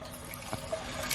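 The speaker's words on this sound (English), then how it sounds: "that starts to fill the tank up with water just so that it's topped off" Water trickles faintly into the tank of a Super Splitter wood splitter, a soft, steady fill with a few small splashes.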